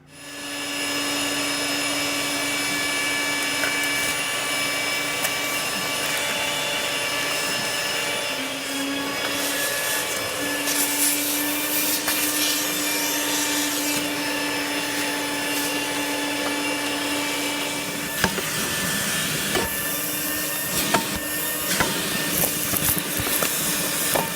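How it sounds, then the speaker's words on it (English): A vacuum pulls debris out of a car engine bay with a loud, steady high whine that runs almost without a break, with a few clattering knocks near the end. "All of the debris has been vacuumed out"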